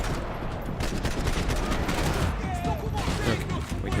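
Dense, continuous gunfire fills a Max Payne 3 firefight, rapid overlapping shots and bursts with game ambience, with a voice talking faintly beneath.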